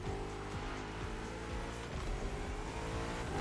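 BMW M5 CS engine in the racing game The Crew Motorfest, a steady loud drone with a rising and falling rev, sustained throughout with no talking.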